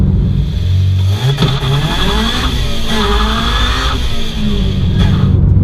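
A supercharged Honda Civic Type R accelerates hard, its engine note climbing loudly through the revs with a gear change partway, a close, continuous roar inside the car.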